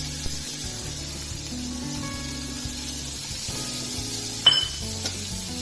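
Chickpeas tipped into a hot pan while making a salad set off a steady sizzle with low stirring and utensil rumble, then a brief sharp clatter near the end.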